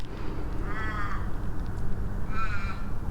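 Crows give two separate caws a couple of seconds apart over steady low background noise, outdoors near Fremantle.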